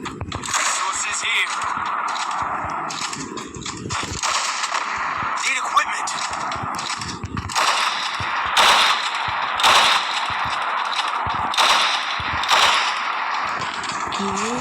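AWM sniper rifle shots in Counter-Strike ring out as sharp, loud cracks spaced a second or two apart over a steady game background, mixed with other rapid gunfire.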